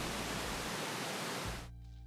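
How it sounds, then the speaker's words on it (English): Pink noise from a generator in the Alchemy synth serves as the base layer of river audio for a game, a steady, dense hiss that runs loud and even, then cuts out abruptly at the end. "In Alchemy, I combine a pink noise generator,"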